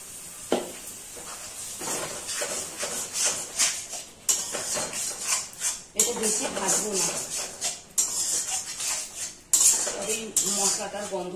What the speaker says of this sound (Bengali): একটু জল দিয়ে ঝাঁকিয়ে নিচ্ছি।